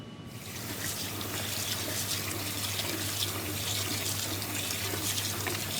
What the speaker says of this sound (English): you rinse it with water, rinse 2 times